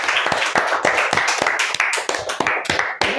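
A classroom of students claps in a loud, close burst of sharp, separate hand claps, the rhythm uneven, with no one speaking.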